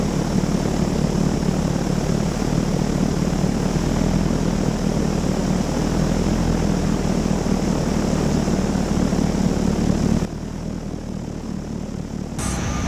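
A Fokker D.VII replica biplane's engine and propeller give a loud, steady, close drone that continues unbroken, then drops in level for the final few seconds.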